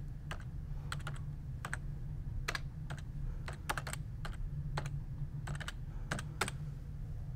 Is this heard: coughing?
no